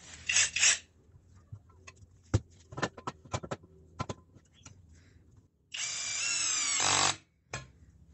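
A CHIGO cordless screwdriver with torque control, run at high speed, drives a 4.5 x 60 mm screw in one loud, steady whirring burst of about a second and a half. Scattered clicks and knocks come before it, and a short buzz follows.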